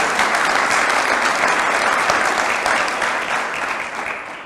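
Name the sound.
round of applause at awards luncheon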